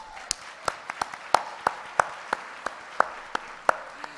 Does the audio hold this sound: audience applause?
yes